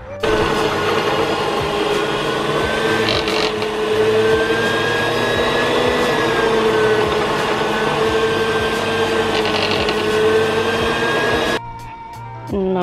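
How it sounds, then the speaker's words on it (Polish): Kitchen stand mixer whipping cream for a chilled chocolate cake, a loud, continuous motor whine with a steady rising pitch that runs for about eleven seconds, then stops abruptly. "Także teraz zabieram się za ubijanie. Może nie będę wam tego nagrywać, bo robot jest bardzo głośny."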